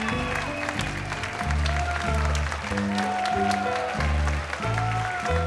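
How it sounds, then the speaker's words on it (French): A studio audience on a French television show claps steadily and loudly, the applause running underneath a rhythmic band playing throughout. "Et je vais donc vous demander de l'applaudir comme il se doit."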